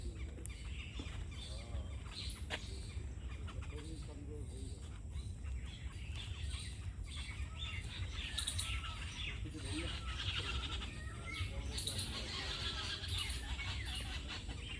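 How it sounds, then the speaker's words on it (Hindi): Small birds chirp and tweet from trees in an outdoor setting, with scattered calls over steady background noise throughout and a person talking at times. "चिड़िया रही है चहक।"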